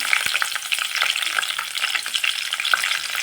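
Cumin, chana dal and green chillies frying in hot oil for palak hesarubele uppittu, a dense crackling sizzle with frequent spatula scrapes and stirring clicks, close and continuous.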